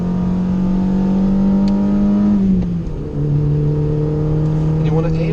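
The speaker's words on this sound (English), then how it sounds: "We can use all of the power this car can supply because we're going uphill." A car engine pulls at full power up a hill on a track, a loud, sustained drone with a shift in pitch midway, as though changing gear, before the drone steadies again.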